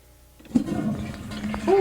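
A toilet flushes after its lever is pushed: a loud rushing surge of water that swells suddenly and keeps churning, with brief voices near the end.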